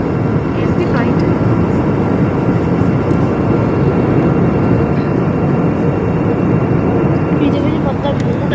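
An aeroplane passes overhead on a hazy day, heard as a loud, continuous broadband roar that holds steady throughout.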